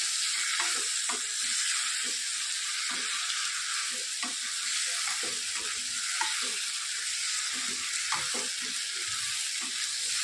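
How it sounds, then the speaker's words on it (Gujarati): Vegetable curry with peas is stirred in a frying pan, giving a continuous bright sizzle with repeated scraping strokes of the spoon, close and steady throughout. "વટાણા, સરસ આપણે બધું મિક્સ કરી લઈએ."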